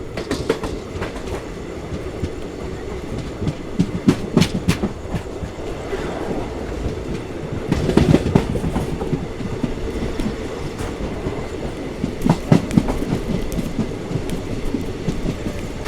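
A passenger train on the Bengaluru to Vijayapura line near Kadur rolls steadily along the rails, with a continuous rumble broken by repeated clickety-clack bursts over rail joints, close and fairly loud, with no voices.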